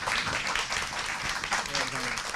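Attendees at an academic policy society conference applaud the society president in a brief, dense round of clapping, with a voice speaking faintly underneath.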